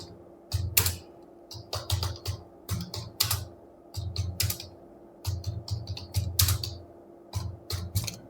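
Someone types text into MS Word on a computer keyboard, producing close, crisp keystroke clicks in short rapid bursts with brief pauses between them. A faint steady hum sits underneath, and no one speaks.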